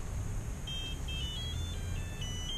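Swell Pro drone controller powering on, giving a series of short, steady electronic beeps at a moderate level over faint background hiss, with no talking.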